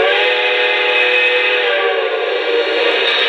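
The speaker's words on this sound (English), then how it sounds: "Here's the default whistle again." A steady, loud steam whistle from a Lionel Canadian Pacific 4-6-0 model locomotive blows continuously, a bright multi-toned chord held without a break from start to finish.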